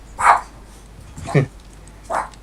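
A dog barks indoors in a room, three short, sharp barks spaced roughly a second apart, close and clear over a quiet background.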